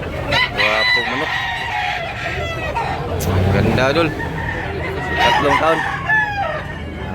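A white hatch rooster, three years old, crows loudly several times at a market stall in Tabunok, Talisay, Cebu, its calls mixed with clucking and men chatting nearby.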